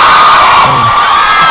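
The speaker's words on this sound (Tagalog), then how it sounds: "Hindi akma yung sound effect doon sa reaksyon ng mga nanonood" Added crowd-cheering sound effect: a dense, loud roar of shouting and whooping voices held steadily throughout, with no pauses.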